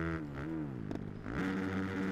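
A 450 motorcycle engine in the TrackDayR racing game revs hard and steadily, its pitch dipping and climbing again through a short burst, loud and close with no talk over it.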